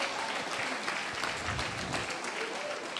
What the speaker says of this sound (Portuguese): Aplaude a Deus, igreja, aplaude.